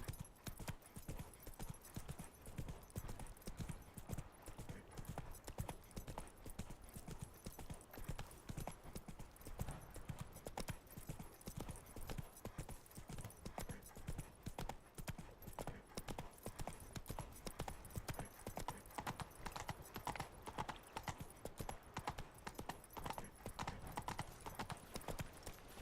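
Rapid, continuous hoofbeats of a galloping horse in The Witcher 3 video game drum steadily for the whole stretch, quiet overall and mixed with game ambience.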